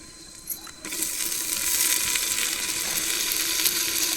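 Garlic and tomato dropped into a hot pan for pirandai kulambu, with a small clatter followed by a loud, steady hiss of sautéing that swells and holds, close and without talk.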